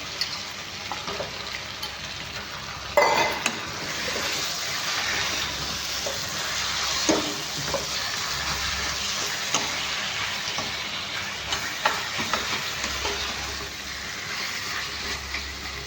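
Chicken added to sautéed onions for a chicken curry fries with a steady sizzle hissing from the pan, with occasional clatters of a utensil stirring and scraping, continuous and fairly close.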